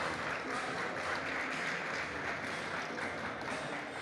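A fight-tournament crowd at Sonny's applauds after the final round, a steady, distant wash of clapping that stays fairly faint throughout.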